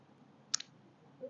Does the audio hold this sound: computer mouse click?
yes